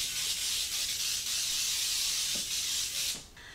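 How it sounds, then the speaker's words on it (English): Cooking spray containing flour is sprayed into cake pans, coating the sides, edges and bottoms in one long, steady hiss that cuts off near the end, with a couple of faint knocks in between. "you can use some cooking spray that has flour in it, which is this right here"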